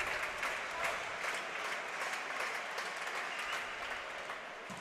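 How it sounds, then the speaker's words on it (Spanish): A volleyball crowd at the Centro Insular de Deportes applauds steadily through a Guaguas versus Río Duero Soria match, the dense arena clapping rolling on evenly and easing slightly toward the end. "Aplaude el Centro Insular de Deporte"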